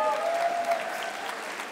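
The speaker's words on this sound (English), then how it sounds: "Another round of applause," A convention panel audience at ACC 2024 gives a short, steady round of applause for actor Ross Marquand, a soft, even patter of many hands.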